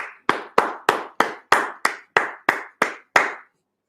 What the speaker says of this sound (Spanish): quiero brindarles a ustedes un aplauso